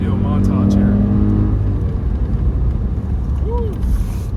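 Audi S8 Plus engine revving and pulling hard under acceleration, a loud, continuous low rumble with rising and falling pitch, close up while driving, with no voices over it.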